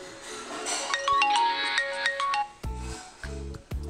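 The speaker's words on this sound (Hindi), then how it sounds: "गोदू का फोन है, क्या कह रहा है" A phone ringtone plays a bright, repeating electronic melody for a few seconds, then a few low thumps and handling noises follow.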